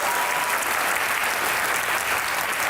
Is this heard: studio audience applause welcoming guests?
yes